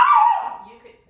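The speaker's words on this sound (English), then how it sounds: "Excuse the barking dog, I apologize." A pet dog gives a single short bark indoors, loud and close, then trails off quickly into silence.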